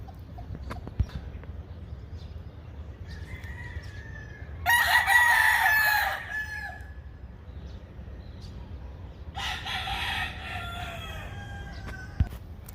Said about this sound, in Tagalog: Oh, even more chickens.